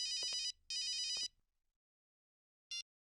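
Telephone ringing with two long electronic trill bursts, followed by a brief third start that cuts off, loud and close with no talk.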